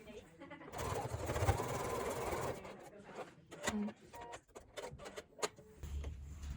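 A sewing machine stitches together a small fabric charm bag, running steadily for about two seconds, then breaking into scattered, uneven bursts and clicks.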